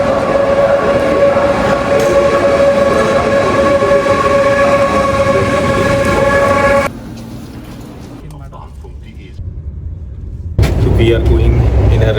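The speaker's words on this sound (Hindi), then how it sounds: "ये देखो ट्रेन आ रही है।" An ICE train pulls into a station, its rumbling, humming rail noise loud and sustained, then briefly drops away before surging back. People talk over it.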